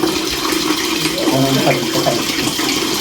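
Water runs and splashes steadily close by, a continuous rushing flow with faint voices mixed in.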